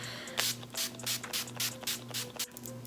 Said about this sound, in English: I'm just going to take this and spray it all over my face